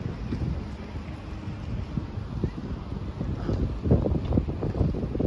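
Strong wind buffets the microphone in heavy, low gusts, with a roar that swells and fades across the clip.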